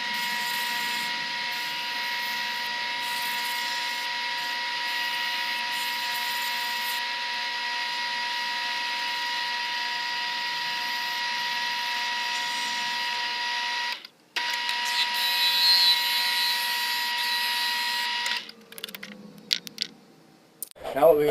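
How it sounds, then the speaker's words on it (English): Continuous high-pitched whine of a power sander sanding a handmade fishing lure, running steadily, briefly stopping, then resuming before winding down with clattering at the end. "Now that we got our sanding done"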